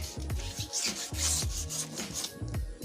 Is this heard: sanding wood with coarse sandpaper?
yes